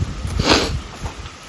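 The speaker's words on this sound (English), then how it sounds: "y'all won't have to excuse the sniffling" A person gives one sharp, breathy sniffle or snort close by, standing outdoors by a barn amid fast-growing grass after rain, with faint low rustling around it.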